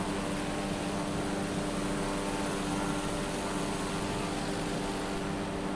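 Small propeller plane on a coastal flight between Inverness and Wick, a loud, steady engine drone and propeller hum heard from inside the cabin, continuous and unbroken with no speech.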